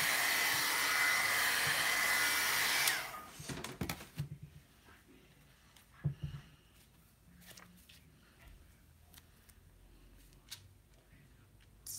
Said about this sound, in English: Remember, you can use a hair dryer too.